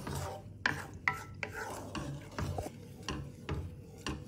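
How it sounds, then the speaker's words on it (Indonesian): Pandan mixture for Thai cendol stirred in a pot, giving a series of soft scraping, rasping strokes at a steady rhythm, close and fairly quiet, with no talking. "Kita aduk-aduk dulu ya, supaya halus"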